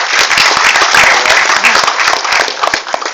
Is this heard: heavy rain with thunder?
no